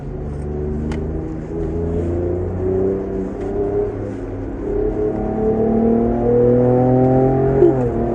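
A Ford Ranger Raptor pickup on a race track in Zimbabwe, its engine droning steadily and shifting pitch repeatedly as it downshifts and revs through gears, loud and close throughout with no talking.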